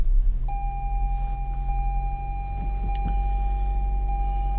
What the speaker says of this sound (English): To start the vehicle, you actually put your foot on the brake and push this start stop button there.